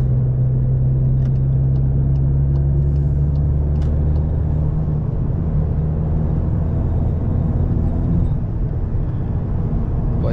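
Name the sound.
Cupra car driving with turbo engine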